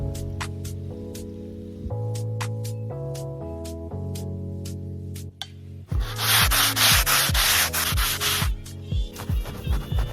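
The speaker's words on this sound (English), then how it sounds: "That's all I do is just sand it, wipe it off." Bondo body filler sanded by hand on a school bus conversion: a steady, close, rasping rub of long strokes under a background tone, then louder, rougher scraping in the second half.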